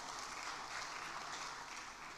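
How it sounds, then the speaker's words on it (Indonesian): Quiet audience applause at an Indonesian gathering, honoring a parliamentary committee chair, a soft continuous patter of many hands heard at a distance for a couple of seconds. "tepuk tangan untuk Ibu beliau."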